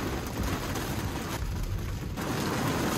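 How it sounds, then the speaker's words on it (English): Heavy rain pours down steadily around a car driving through rush-hour traffic, a loud, continuous hiss and drumming with no letup and nobody speaking. "it's raining hard"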